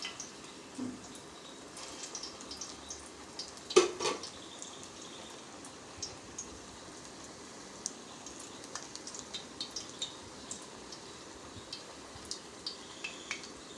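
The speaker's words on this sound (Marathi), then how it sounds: "अशाच प्रकारे आपण संपूर्ण वडे तळून घेऊया" Vadas deep-fry in hot oil for an Indian veg thali, a faint, steady bubbling sizzle with scattered small pops and a couple of louder clinks, no voices.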